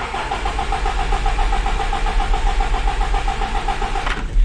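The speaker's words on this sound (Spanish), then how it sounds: "No quiere arrancar, vamos a darle nuevamente." A 1994 Toyota 22-R engine cranks without starting, the starter churning in a steady rapid rhythm for about four seconds before stopping, close and loud.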